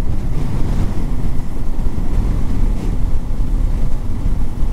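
Strong wind buffets the microphone in gusty, low rumbling waves, with faint water and rigging noise underneath.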